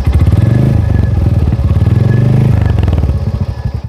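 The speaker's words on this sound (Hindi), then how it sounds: "यहाँ पे ये सुन रहे हैं दोस्तों बाइक का साउंड," Motorcycle engine idling and revving close by with a steady, rapid, thumping beat that stays loud throughout, a slight clatter running beneath it.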